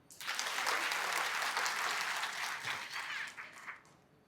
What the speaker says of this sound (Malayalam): ഒരു കയ്യടി തരാം.